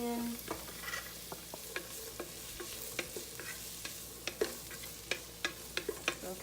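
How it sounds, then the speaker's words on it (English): Onions sizzle steadily in a pan for a South African-style chicken curry, with a dense frying hiss and frequent sharp clicks and scrapes from stirring that grow more regular toward the end. No one speaks. "Let that cook in with the rest of the onion."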